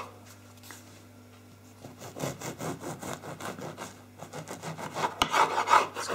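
A knife saws through a low-protein continental-style loaf, making a run of quick, rasping back-and-forth strokes close up. The strokes start after a quiet moment and grow louder.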